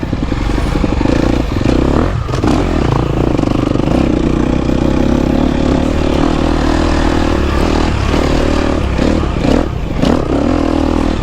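A GasGas EX250F dirt bike engine, prone to flaming out, runs loud and close with rough revving, popping and sputtering dips, and brief drops in the noise, worked by a lot of clutch.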